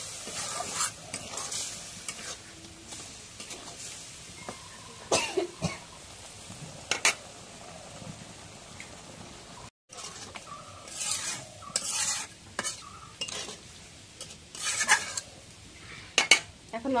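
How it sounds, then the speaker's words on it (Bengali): Fish pieces being stirred in cooked-down spiced masala in a pan, with close scraping and clinking of a spoon against metal over a soft sizzle, in irregular bursts with a brief pause midway. "এখন একটু নাড়িয়ে দিই।"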